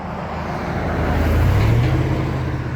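Road traffic passing close by, a loud broad roar of vehicles that swells and peaks midway as one goes past, then eases slightly, with no talk.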